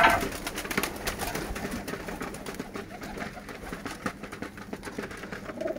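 Pigeons of the Lotan and local breeds coo on a home pigeon farm. A steady chorus of soft, overlapping coos carries on throughout, close and moderately loud, with no talk.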